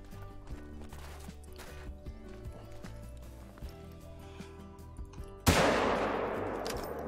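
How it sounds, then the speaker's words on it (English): A single loud rifle shot at a red deer in the hunting game theHunter: Call of the Wild rings out near the end, decaying over a second or so after a stretch of quiet in-game ambience. "I think we should be cool just shooting him"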